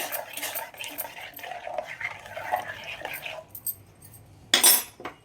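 A pot of breakfast food being stirred and mixed with the stove switched off, giving soft scraping and clinking of a utensil for several seconds, then a short louder clatter near the end.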